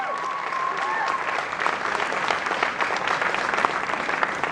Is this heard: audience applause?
yes